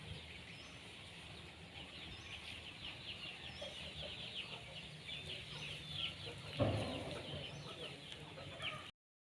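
Native country hens with small chicks cluck in a farmyard, soft scattered calls over faint outdoor background noise, with one brief louder knock partway through.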